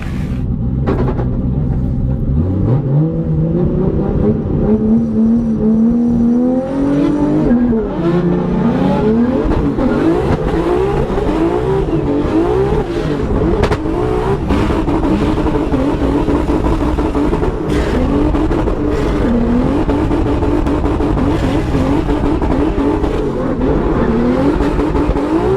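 Drift cars at Formula Drift Orlando 2024 roar loudly and without a break, their engines revving hard as tires squeal through smoky tandem runs. No voices are heard.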